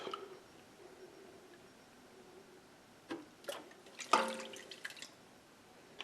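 Milk poured into a sugar mixture for peanut butter fudge, heard as faint, quiet splashing and dripping with a few brief sharper liquid bursts near the end.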